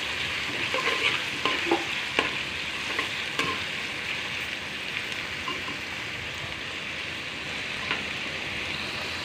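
Chopped onion, chili and carrot fry in a pan for Maggi noodles, giving a steady, close sizzle with a few soft pops and crackles throughout.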